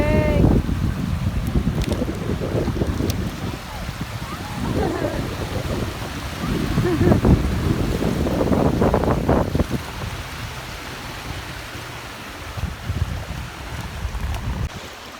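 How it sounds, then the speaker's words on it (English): Wind gusting across the beach at Bear Lake, Utah, a loud, rough rushing roar that buffets continuously with surges and lulls, with a brief voice at the start. "It's windy here. So wind."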